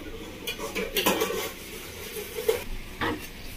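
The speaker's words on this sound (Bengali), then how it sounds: "বন্ধুরা 15 মিনিট মতো হয়ে গেছে, আমি ঢাকাটা খুলে দেখে নেবো" Metal pot lid lifted off a pot of simmering Bengali fish curry with eggplant and potato, giving a few light clanks and scrapes against the rim over a faint bubbling sizzle.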